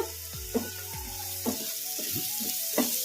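Carrots and chilies fry in a pan for carrot chutney, a steady sizzle under a few sharp clinks of a utensil and some brief ringing tones, heard close and with no talking.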